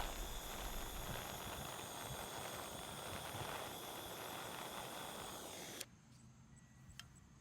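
A burning aluminum and flour thermite-like mixture gives off a steady, rushing hiss and roar that ends abruptly, leaving quiet background with a couple of faint clicks.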